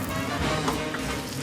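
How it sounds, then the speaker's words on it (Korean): A steak in a hot earthenware pot, topped with spicy sauce, gives a dense, steady sizzle, close and continuous for a brief moment. "지글지글 잘 구워진 스테이크에 얹어진 매콤한 양념."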